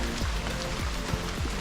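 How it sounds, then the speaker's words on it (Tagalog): Steady rainfall patters densely on surfaces nearby on a mountain hiking trail, a constant wash of drops with no voices. "Umuulan pa rin."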